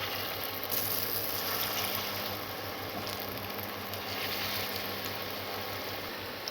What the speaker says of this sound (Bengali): কড়াইয়ের মধ্যে আমরা তেল দিয়ে দিয়েছি। তেলটা গরম হয়েছে, দিয়ে দিয়েছি আমরা বড়াগুলো।